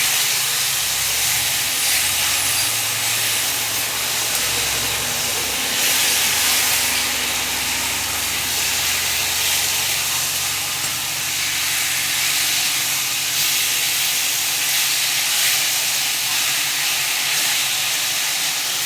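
Marinated chicken frying in a pan while being stirred for a kosha curry, giving a loud, continuous hissing sizzle that stays bright and steady throughout, heard alone.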